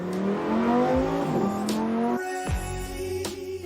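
A Lamborghini Huracan STO, the road-legal Super Trofeo racing version, runs on the 5.8 km French Grand Prix circuit, its engine screaming loud and close as revs climb and drop sharply through quick gear changes.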